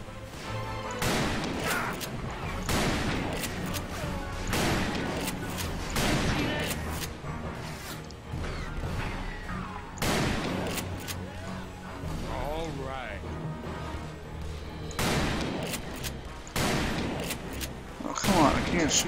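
Gunfire crackles in a Call of Juarez: Bound in Blood western shootout, repeated loud shots and impacts in dense bursts throughout, with someone talking over the battle.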